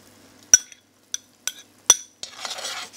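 A utensil stirring pickled onions into melted fromage de tête in a pan, four sharp separate clinks against the metal, then a brief soft scraping swish.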